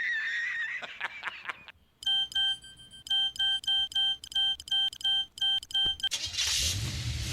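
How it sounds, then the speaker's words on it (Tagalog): An old-style ringtone sounds from a smartphone in a Cebuano drama scene: a series of bright, evenly spaced electronic beep bursts, loud and close, following a few seconds of talk. "O sa man yung smartphone, karaan pa man ang ringtone."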